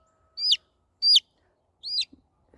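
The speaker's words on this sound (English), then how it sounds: "This is a very loud bunch of chicks, let me tell you. I can hear them all." Chicks give three separate, bright upward chirps at a steady pace, close and loud with quiet gaps between them.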